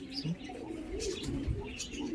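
A pigeon, up close for sale with clipped wings, gives soft low rolling coos, a continuous throaty murmur with faint background chatter.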